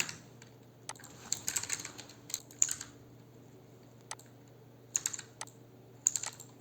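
Clicky computer keyboard typing while writing Flutter code, irregular bursts of close keystrokes with pauses between, over a low steady hum, no talking.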